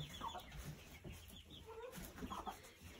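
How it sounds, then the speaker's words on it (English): Hens clucking softly in a cluster, a mix of short murmured clucks at moderate distance with no talking. "These are our hens."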